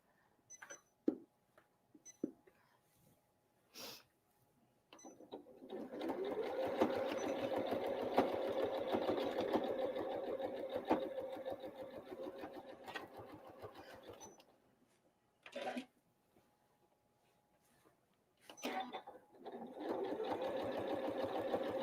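Sewing machine stitching an old-fashioned apron in two steady runs of rapid whirring, with short clicks and handling noises between bursts and the motor starting up again near the end.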